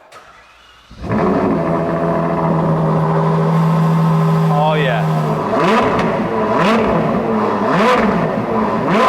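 A Ferrari 812 GTS with a 6.5-litre V12 cold-starts with a starter whir, catches into a loud high idle that settles, then blips through several rising revs. It is heard up close, with a brief voice over the engine.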